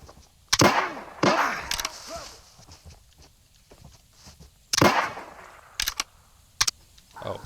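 Sharp broadband gunshots from a video game raid, a few spaced bursts and single cracks standing out over a low, quiet background with faint game noise between them.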